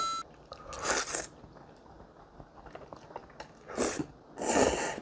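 Someone eats Ottogi spicy curry cream stir-fried noodles up close, with bursts of slurping and crunchy chewing separated by quieter mouth noises and no speech.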